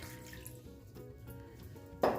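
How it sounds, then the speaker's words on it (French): Water poured into a large mixing bowl for bread dough, a steady faint trickle with a louder splash near the end, no talking. "je vais utiliser ici un grand saladier dans lequel je vais verser l'eau"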